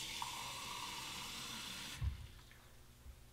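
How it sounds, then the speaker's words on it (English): Hot water runs from a tap into a shaving brush soaking cup, a steady rushing hiss that stops abruptly partway through, followed by a soft thump and quiet room tone. "Right here, fill it with hot water."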